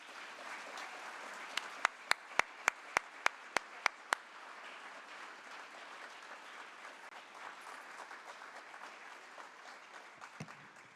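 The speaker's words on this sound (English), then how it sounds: "would you join me in a round of applause" Steady applause from a crowd fills the room, with a few sharp, loud claps standing out near the start.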